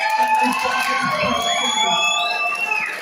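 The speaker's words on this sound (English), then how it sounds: "please give Spencer and the blue corner a round of applause" A boxing crowd at an amateur exhibition bout roars with shouts and high whoops, loud and continuous across the whole moment, with claps blended into the cheering.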